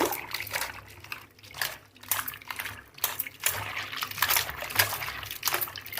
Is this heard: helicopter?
no